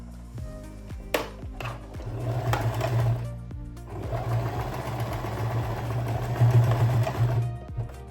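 A sewing machine stitches shut the gap left in the elastic casing of a tie-front puff sleeve dress: a few short bursts, then a close, steady motor whir lasting several seconds, with one brief spoken word.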